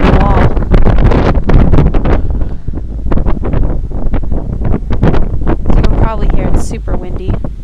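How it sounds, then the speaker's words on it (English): Strong wind buffets a boat moored by a wall, a loud continuous rumble of wind noise against the microphone with voices talking over it throughout. "Super windy."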